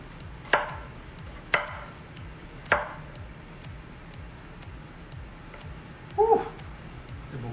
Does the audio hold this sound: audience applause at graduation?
no